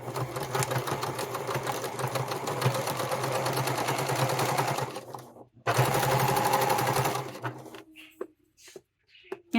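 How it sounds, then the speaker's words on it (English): A sewing machine stitches through a thick layered wallet in a fast, even mechanical rattle, stopping briefly, then running again before halting with a few quiet clicks. "So I'm going to stitch this right here."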